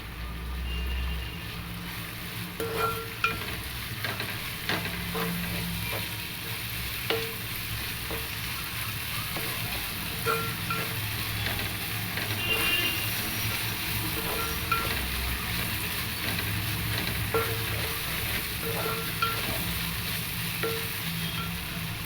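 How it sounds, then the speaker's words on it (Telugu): Okra curry ingredients fry in a pan with a continuous sizzle, broken by frequent scraping stirs close by. A faint low rumble sits underneath, and no one speaks. "కొద్దిగా పచ్చి వాసన పోయే వరకు వేయించాలి."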